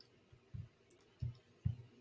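A few soft mouse clicks on the chat button in Microsoft Teams, quiet and spaced apart, with three low taps in about two seconds and no talking.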